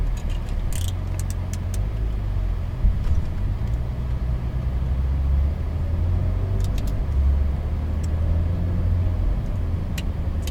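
A Porsche 911 GT3 laps a race track at Exotics Racing in Las Vegas, its engine a steady, loud low rumble that surges slightly in places, heard from inside the car, with a few faint clicks.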